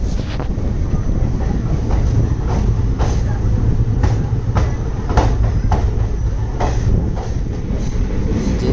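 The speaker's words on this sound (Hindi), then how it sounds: "जैसे ही हमारी ट्रेन नगरसोल रेलवे स्टेशन से डिपार्च होती है" Passenger train pulling out of Nagarsol railway station on the electrified Aurangabad–Manmad line, wheels clacking over rail joints in a steady rhythm under a continuous loud rumble, close and without talk.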